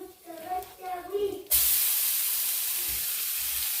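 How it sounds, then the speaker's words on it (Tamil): Grated carrot hits hot oil in a pan for rava idli, a sudden loud sizzle that bursts in and holds steady as a bright, hissing fry, following a voice speaking briefly. "கேரட் நல்லா வதங்கட்டும்"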